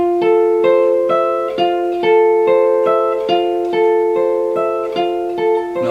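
Bass guitar plucking a steady run of rising notes, each note ringing clearly in a repeating upward pattern, played alone without any talking.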